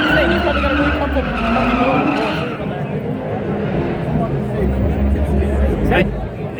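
A lowered Honda Accord race car skids at a racing event, a loud continuous tire and engine roar dominating the scene, with a crowd babbling beneath and a brief sharp burst near the end.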